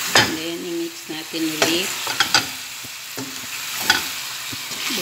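Chicken fries with tomatoes and green chilies for a chicken-and-capsicum dish, a steady sizzle running under a voice talking, with a few sharp spoon scrapes and clinks against the pan.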